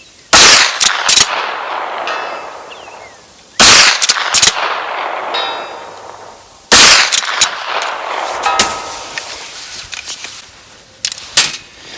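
A 9mm POF Tombstone lever-action rifle fires 115-grain XTP rounds: three loud, close gunshots about three seconds apart, each followed by metallic clinks and clatter from working the lever.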